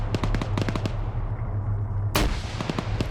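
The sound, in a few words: grenade explosion in a video game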